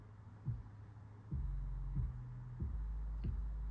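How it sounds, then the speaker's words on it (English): A soloed 808 bass drum sample from an Ensoniq ASR-10 sampler plays as a few quiet, deep booming thumps at a steady pace, each with a sustained low tail. "If you got headphones on, you should be able to hear the 808."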